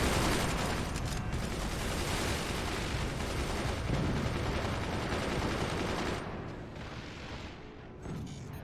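Guns firing in the strategy video game Forts make a dense, continuous roar of overlapping shots and booms, loud and sustained, then thinning slightly near the end.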